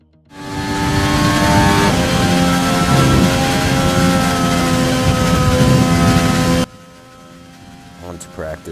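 F1 race car engine from the F1 2020 game at the Belgian Grand Prix at Spa, a loud sustained high-pitched whine for about six seconds before cutting off abruptly, leaving a quieter tail.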